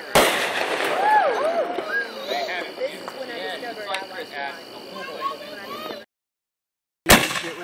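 Fireworks whistle and crackle close by in a continuous rush of bursts and pops while people talk over them. After a brief silence, one sharp, loud blast follows.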